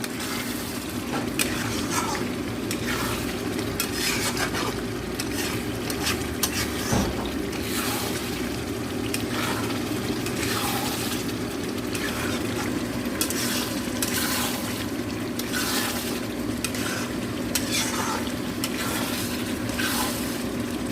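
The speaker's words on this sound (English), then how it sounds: "এটাকে একটু টানিয়ে নেওয়া হবে এখন, আস্তে আস্তে একটু নেড়ে, হাই ফ্লেমে নেড়ে।" Mutton kasha stirred and fried over a high flame, a steady sizzle with repeated scraping strokes of a spoon against the pan, close and continuous with no talking.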